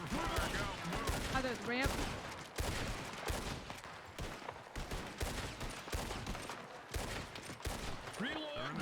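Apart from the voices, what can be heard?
gunfire in a video game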